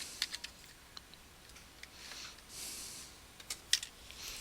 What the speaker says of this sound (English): in the search box you can type